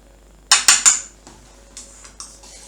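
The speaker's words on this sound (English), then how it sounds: "Mix it up really well because I want the vitamins in there." A utensil clinks sharply three times against a bowl of dog food, then fainter scrapes and taps follow as the food is mixed, close and alone with no talk.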